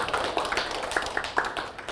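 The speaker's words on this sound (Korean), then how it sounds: "그래서 그 고생하신 분들께 우리 박수로 일단 감사의 말씀" At a lecture, audience members clap in thanks, a scattered and fairly thin patter of hands with a few louder individual claps cutting through.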